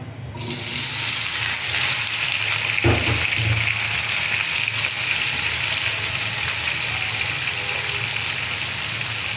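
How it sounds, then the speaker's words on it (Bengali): Diced, parboiled potatoes frying in a pan with a loud, continuous hiss and sizzle that starts abruptly and holds steady, with a brief clatter near the start and no talking. "এখন আমি আলু ভাজিটা আগে করিয়া নিমু"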